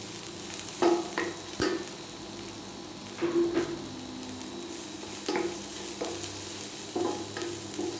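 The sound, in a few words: onions frying and being stirred in a pan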